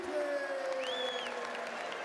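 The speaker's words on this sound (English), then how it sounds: "even the Priestley fans have to applaud" A darts crowd at the 2008 Matchplay semi-final applauds Phil Taylor's maximum, sustained steady clapping and crowd noise under whistles, with commentary over it.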